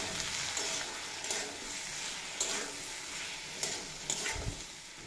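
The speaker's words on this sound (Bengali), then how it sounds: "পরিমাণ মতো হলুদের গুঁড়ো আর সামান্য কাশ্মীরি লঙ্কার গুঁড়ো দিয়ে খুব ভালোভাবে ভেজে নেব।" Kundri (ivy gourd) frying in a pan with turmeric and Kashmiri chili powder: a steady, soft sizzle broken by several sharp scrapes of stirring at regular intervals.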